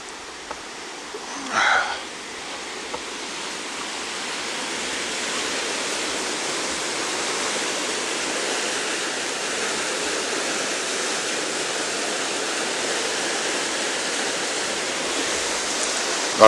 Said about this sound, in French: il y a de l'eau qui passe